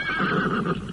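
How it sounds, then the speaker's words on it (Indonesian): Horses neigh in a brief whinnying call with a rising and falling pitch, heard alone over a dull background. "Itu kuda-kuda mereka."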